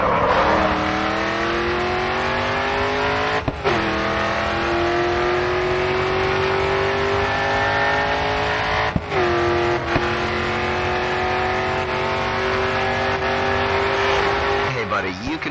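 Race car engine at full throttle in Grid 2, revving loud and close with rising pitch sweeps and brief dips at gear shifts, plus faint tire squeal, while a voice talks over it.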